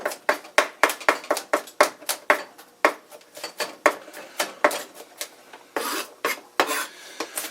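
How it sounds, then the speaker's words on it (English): Rapid, sharp knife strikes chopping garlic on a cutting board, repeated in an uneven rhythm with brief pauses, close and fairly loud with no talking. "there I'm just grinding up my garlic, or chopping up my garlic."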